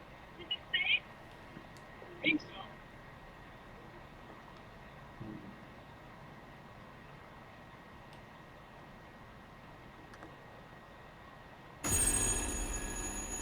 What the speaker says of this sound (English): I got a mysterious phone ringing.